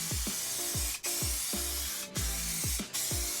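A spray paint can fitted with an ultra wide flat jet cap hisses loudly in steady bursts, separated by short pauses and metallic clicks, close to the listener.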